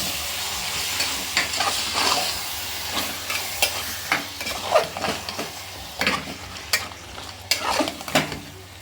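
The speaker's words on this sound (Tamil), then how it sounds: "நல்லா கிளறி விட்டுக்கலாம்." Chicken kulambu being stirred in a pan, a steady sizzle under repeated scraping and clacking strokes of a spoon, close and fairly loud.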